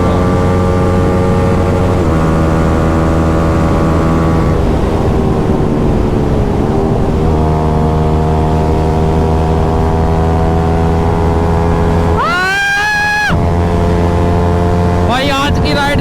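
A motorcycle engine, an R15 V4 or KTM RC 200 on a group ride, roars continuously and loudly up close with shifting revs and wind noise, rising briefly in a sharp high-pitched rev near the end.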